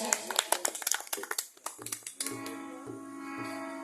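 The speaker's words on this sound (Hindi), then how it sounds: "एक बार जोरदार तालियां बजा लीजिए।" An audience at a rural kirtan gathering claps in quick, uneven bursts that fade into a sustained tone of harmonium-like music, close and fairly loud, with some voices mixed in.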